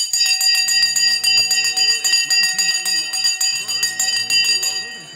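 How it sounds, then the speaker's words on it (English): A stock market opening bell rings in a long, continuous metallic peal, loud and close, while someone talks over it. "we're going to ring the bell in 3, 2"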